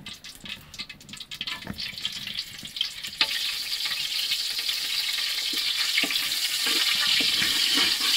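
Cinnamon, cardamom and bay leaf hit a little oil in a kadai, and an irregular crackle of scattered pops turns into a steady, loud, broad sizzling hiss that keeps building toward the end.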